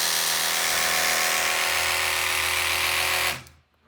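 Electric toothbrush fitted with an Oral-B compatible replacement head, running with a loud, steady high-pitched buzzing hum for about three seconds before abruptly switching off.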